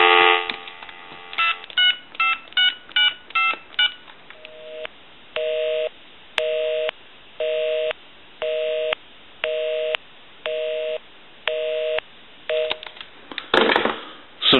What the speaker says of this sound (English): We can call my number and it'll be busy.